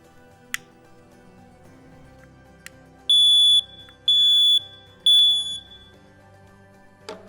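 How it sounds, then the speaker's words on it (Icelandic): A smoke detector under test gives three loud, piercing electronic beeps in a row, each about half a second long, set against a quiet room with a few faint clicks before and after. "prófa þennan reykskynjara sem hér fyrir framan mig"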